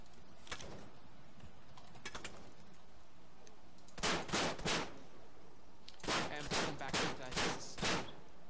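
Gunfire in a military video game, scattered distant shots early on, then two close, loud bursts of rapid fire, each about a second long, with short gaps between them.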